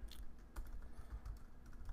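Soft, quiet keystrokes on a computer keyboard while code is written in Xcode, a brief irregular patter of light clicks at a distance.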